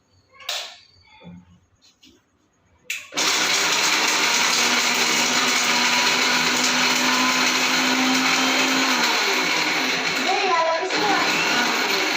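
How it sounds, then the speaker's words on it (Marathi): A mixer grinder blending a buttermilk kadhi mixture runs loud and close for about nine seconds with a steady whirring roar. A few short knocks and handling sounds come before it starts, and the motor dips in pitch near the end. "आता मी हे मी मिक्सरनं वाटून घेते"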